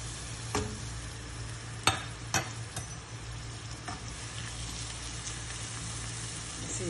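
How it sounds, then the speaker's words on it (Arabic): Onions frying in oil for Palestinian fesikh, with a continuous close sizzle and a low steady hum beneath, punctuated by a few sharp stirring knocks and scrapes. "نسيب البصل شوية ياخد تحميرة"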